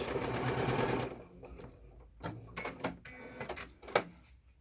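A sewing machine runs a short burst of stitching on fabric, including a backstitch, with a fast whirring rattle for about a second. Quieter handling clicks and taps follow as the work moves toward the edge.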